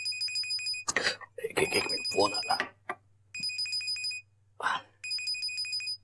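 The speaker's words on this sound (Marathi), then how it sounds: "एक मिनिट, फोन आला." A telephone rings in repeated bursts of bright electronic tone over a low steady hum, with people talking over and between the rings in a domestic scene from a Marathi TV serial.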